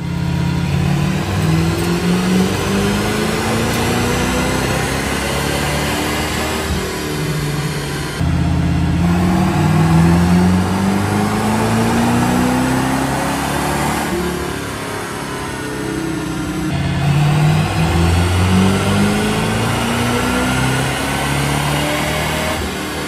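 An original, unrestored 1969 Shelby GT500 V8 on a dyno, revving through repeated long wide-open pulls, its pitch climbing steadily in each run before dropping back, loud and close throughout with no talking.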